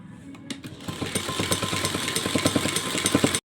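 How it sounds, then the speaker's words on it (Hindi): A sewing machine runs a straight line of stitching across a cotton summer dress for a Laddu Gopal idol, its motor whirring steadily with a rapid, even mechanical patter that starts after a few knocks and runs about three seconds. "इस कपड़े पे ऐसे सिलाई मार के पहले हम ऐसे सीधी सीधी सिलाई लगा लेते हैं पूरे पे"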